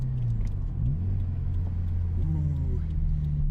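A Scion FR-S with a Supertrapp WaveTech muffler, HKS intake, K&N filter and TRD sound generator gives a deep, bassy exhaust drone. The engine pitch rises and falls a couple of times as the revs change, and the sound stays steady and close.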